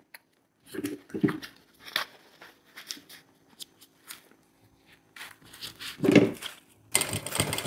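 A sewing machine stitches and backstitches a shoulder bag panel in short bursts of whirring and clicking, separated by pauses and handling of the fabric, with a louder burst near the end.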